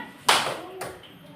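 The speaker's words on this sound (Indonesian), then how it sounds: "Tepuk tangan." Children in a classroom clap on cue, two short crisp bursts of clapping close by, the first louder, with voices around them.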